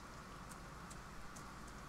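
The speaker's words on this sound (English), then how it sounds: "Apparently it's a thunderstorm." Soft steady rain during a thunderstorm in the farming game Farm Together, a faint even hiss of falling drops with no voices.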